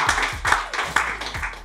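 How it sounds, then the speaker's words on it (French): Audience at a French science-and-music stage show clapping in a short, uneven burst of scattered hand claps, moderately close, with faint voices underneath. "Vous pouvez les applaudir aussi."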